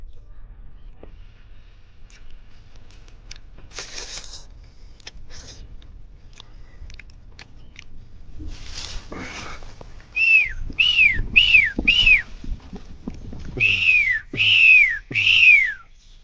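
Scattered clicks and rustles in an Asian jungle give way to a series of sharp, rising whistled chirps, repeated in quick bursts, a person imitating bird calls.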